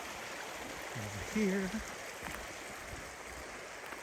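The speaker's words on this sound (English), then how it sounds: "This is a wide, expansive swath of creek." A wide creek flowing past a backcountry dispersed campsite gives a steady, moderate rush of water along the shoreline, heard close, while someone speaks briefly over it.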